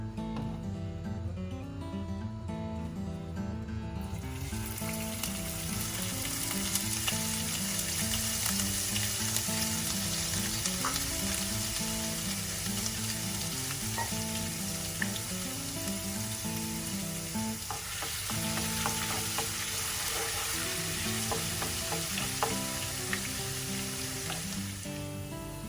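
Ginger dropped into hot oil for crispy chilli oil sets off a continuous bright sizzle that runs on steadily, layered under prominent background music.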